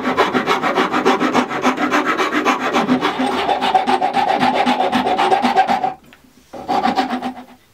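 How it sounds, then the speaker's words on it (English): A wood rasp shapes a wooden plectrum case with fast, steady, rhythmic scraping strokes, close and loud, stopping briefly near the end before a few more strokes. "Now I'm just going to use my rasp and give it some shape."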